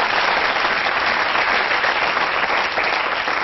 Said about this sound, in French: Très bien, on l'applaudit alors.